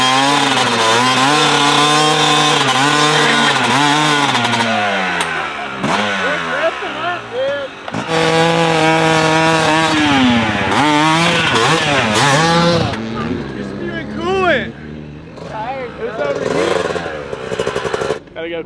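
A two-stroke dirt bike engine revs hard and close, with repeated rising and falling throttle blips and buzzy high-pitched wails, on a Southern California berm-riding outing.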